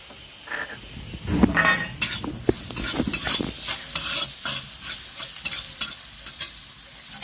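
Potatoes fry with turmeric and salt in a pan, a close, soft sizzle broken by irregular scraping stirs and light clinks of a utensil against the pan.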